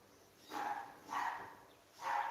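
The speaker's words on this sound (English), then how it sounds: "I don't know what Puppy is barking at." A dog barks three times at an even pace, each bark fairly soft and somewhat distant, with quiet gaps in between.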